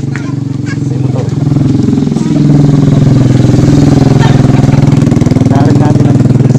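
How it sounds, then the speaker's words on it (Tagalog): A motorcycle engine is heard on a village road in rural Leyte. It runs loud and close, with a steady throbbing drone that grows louder partway through as the bike nears and stays prominent. "May motor."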